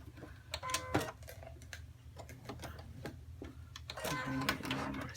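A sewing machine stitches a V neck in short runs of rapid ticking, stopping and starting between bursts, with a louder run near the end. The machine is close and nobody talks.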